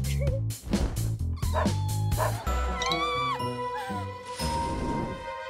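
A small puppy yips and barks in quick, high bursts, then lets out whimpering whines, close up with a faint jingle in the background.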